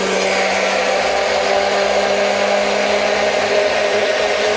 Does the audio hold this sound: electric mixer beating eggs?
yes